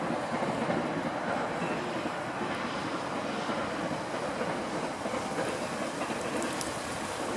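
A train rumbles steadily past on a nearby track at Lancaster Castle, a continuous loud roar with faint rhythmic rail clatter throughout.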